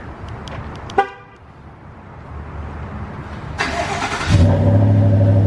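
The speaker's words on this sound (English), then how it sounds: "let's get a cold start" A car engine cold start: the engine cranks and fires into a loud idle after a brief starter whine, following a few clicks and a short beep.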